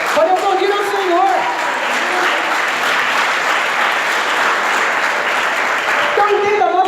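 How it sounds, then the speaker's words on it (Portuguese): A church congregation applauds in a long, dense, sustained roar of clapping, with a voice speaking over it at the start and again at the end. "Pode aplaudir ao Senhor."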